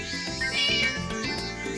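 Cat meowing in the Harvest Moon: Light of Hope farming video game, a few short meows over steady game music, clear and close.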